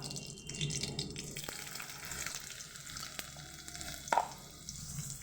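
Panch phoron and dried red chilli sizzling in hot oil, a soft, steady crackle with brief spits and one short clatter near the end, fairly faint and with no voices.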